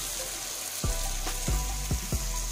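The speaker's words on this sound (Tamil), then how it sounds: "கீரை போட்டு கீரை நல்லா அதுலேயே வதங்கிட்டோங்க." Fenugreek leaves sautéing with tomato in a pan give a soft, steady sizzle and hiss, broken by a few low thuds and scrapes of stirring; close by, with no voices.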